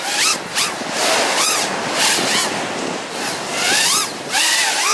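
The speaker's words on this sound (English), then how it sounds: "Pretty windy, the spray's getting in my face." Strong wind buffets the microphone at a beach while ocean surf rushes in, loud and steady, with recurring whooshing sweeps rising and falling over the roar.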